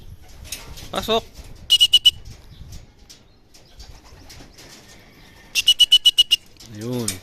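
Racing pigeons arrive during a summer race at a loft in Concepcion, Tarlac, wings clapping in two sharp rapid bursts of about five beats each, close and loud, with soft cooing and quiet talk between.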